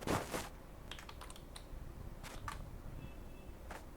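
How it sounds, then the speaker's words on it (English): Faint typing on a computer keyboard while entering text into a web page, a loose run of soft key clicks with irregular gaps. "So we'll type"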